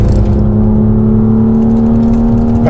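A BMW M2 engine at Mugello circuit pulls hard under acceleration, a loud, steady in-car drone with a strong low harmonic tone and rising whir, heard close and constant throughout.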